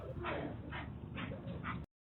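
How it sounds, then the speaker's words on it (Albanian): A dog gives four quick yipping barks in an even rhythm, fairly close and clear, before the sound cuts off abruptly. "Oho, shi qeni re. I ikni vlla, do dali i qeni."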